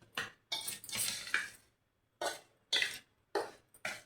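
Metal spoon scraping and clinking against a pan while sugar is stirred into roasted semolina for rava laddu, coming in several bursts of scraping separated by short pauses.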